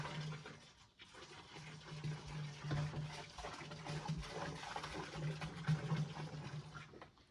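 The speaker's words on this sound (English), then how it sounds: "let's add a little more diesel fuel to our reservoir" Diesel fuel poured into the reservoir of a 90-year-old gas pump, a steady liquid splash and gurgle running close by for several seconds with no talk.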